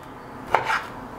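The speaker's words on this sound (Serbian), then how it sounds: "I tako ću iseći sada svo meso." A knife cuts 500 g of shoulder meat into small pieces on a board, giving a single soft chop that stands alone in a quiet kitchen.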